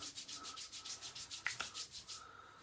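Cosmetic cream is rubbed into a hand, a steady rhythmic swishing of skin on skin repeated many times, close and alone.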